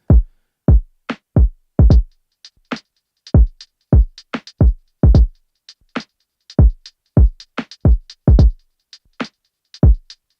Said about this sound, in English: So those are my loose hi-hats